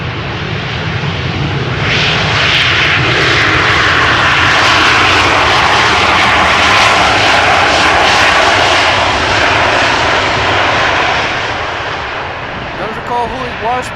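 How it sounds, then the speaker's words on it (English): A KLM airliner arriving at Amsterdam Schiphol Airport, its engines swelling into a loud, steady roar that holds for most of the stretch before easing off near the end. "this is the only airplane in the fleet of KLM still flying with this livery"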